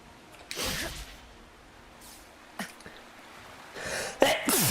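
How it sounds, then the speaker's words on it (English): A person sneezes during a gaming stream, with sharp bursts of breath, a wind-up intake followed by a forceful sneeze near the end, close to the microphone. "I gotta sneeze all of a sudden."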